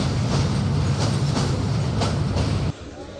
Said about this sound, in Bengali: ট্রেনটি এখন প্রবেশ করেছে তিস্তা নদীর উপর নির্মিত তিস্তার রেলওয়ে ব্রিজে